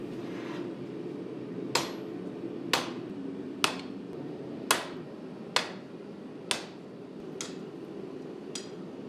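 Hand hammer striking a steel katana billet during final preforming at the forge, eight sharp metallic blows spaced about a second apart over a steady low roar, close and fairly quiet.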